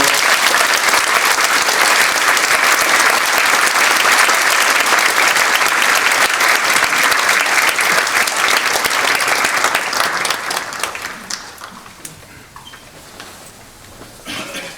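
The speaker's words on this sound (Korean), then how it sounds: "목사를 환영하는 마음으로 박수로 맞이하겠습니다" Sustained, loud applause from a church congregation in Daejeon welcoming a pastor at an installation ceremony, holding steady for about ten seconds before thinning out into scattered claps and room noise.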